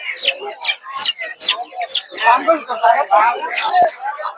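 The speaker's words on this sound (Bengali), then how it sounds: "পাকিস্তানি মুরগির বাচ্চা" Chicks chirping in a busy, overlapping chorus of high peeps at a poultry market, close and fairly loud, with people talking alongside.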